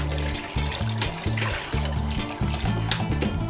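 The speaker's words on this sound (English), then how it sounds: "Then you add some water." Water poured into a pot of spiced assorted meat makes a brief, soft trickling splash under background music.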